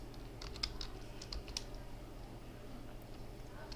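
Someone types code on a computer keyboard in quick, light, irregular clicks with short pauses, fairly close and quiet over a low background hum.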